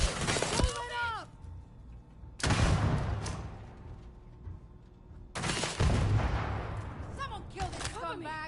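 Suppressive gunfire in a firefight: a few sharp, cracking shots and bursts ring out amid loud, urgent shouting voices.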